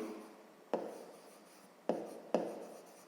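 Pencil marks on paper while writing out a fifth-grade math exercise: three sharp taps followed by short scratchy strokes, close and quiet, with no voices.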